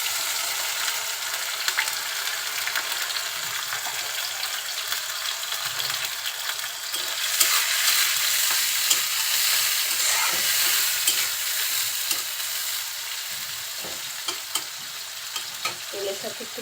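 Small shrimp with chopped onion and green chilli being stirred in hot oil, a loud continuous sizzle with frequent light scraping and tapping of the spoon against the pan.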